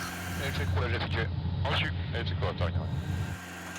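The constant engine drone of a French Air Force Caracal military helicopter on a dusk reconnaissance flight over Gironde wildfires hums beneath continuous talking, then drops away near the end.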